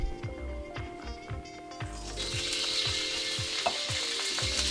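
Vegetable stir fry sizzles steadily in a wok, a loud frying hiss that swells and brightens partway through, with the clink and scrape of stirring utensils repeating underneath.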